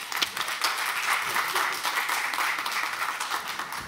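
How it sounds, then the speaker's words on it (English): A large audience applauds steadily at a United Nations Solutions Summit session at UN Headquarters, a dense, even wash of clapping that holds at a constant level for about four seconds. "So that is definitely worth another round of applause,"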